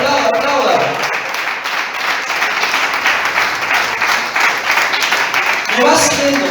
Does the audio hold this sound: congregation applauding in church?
yes